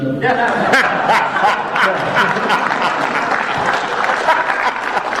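A convention-panel audience breaks into loud, sustained applause mixed with chuckles and crowd chatter, the clapping filling the room evenly for the whole stretch.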